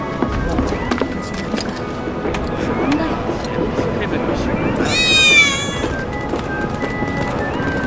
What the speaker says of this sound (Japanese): 猫の鳴き声しなかった。